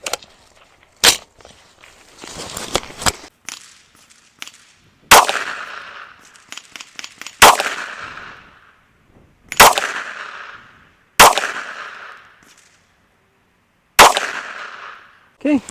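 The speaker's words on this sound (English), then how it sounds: "I am firing this in pretty rapid succession" A Ruger SFAR rifle fires Hornady Black 155 grain SST rounds in fairly rapid succession outdoors, about eight loud, sharp cracks with ringing decays, separated by short gaps and faint clinks.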